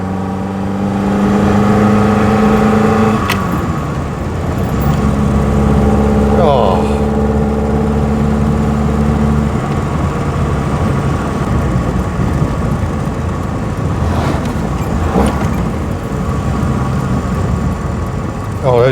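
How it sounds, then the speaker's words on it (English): A 1930s Lancia Aprilia engine revs up and down through double-declutch gear changes, its tone rising and dropping between shifts, loud and close, with someone speaking over it. "those double declutches are so satisfying if you get them right"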